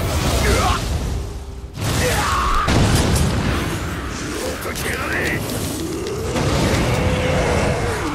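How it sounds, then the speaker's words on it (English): Explosions in the video game Nioh 2 boom and burst repeatedly over dense, continuous game sound with whooshes and mechanical clatter, loud throughout. "Those explosions are so annoying."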